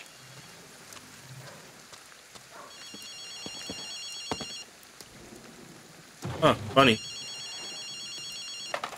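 Telephone ringing in the Ghostwire Tokyo video game, a repeating electronic trill in two bursts amid rainy ambience, with a person speaking briefly and a loud thump near the end.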